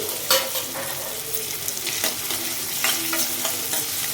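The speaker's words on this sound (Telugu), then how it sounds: "కట్ చేసుకున్నాం కదా ఆనియన్స్, అవి ముక్కలు వేసేస్తున్నామండి." Chopped onions fry in oil for a Godavari-style gongura dried-shrimp curry, a continuous close sizzle with bursts of crackle and scraping as a spoon stirs them around the pan, no talking.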